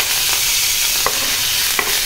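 Cumin seeds and green chilies frying in a hot pan, a loud continuous sizzle with a couple of brief stirring scrapes.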